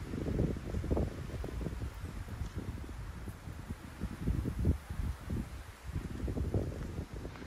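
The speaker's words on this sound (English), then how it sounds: "Getting closer, but the wind's picking up." Gusty wind buffets the microphone on a mountain trail near the summit of Mount Greylock on the Appalachian Trail, a steady low rumble swelling and easing throughout, loud and close.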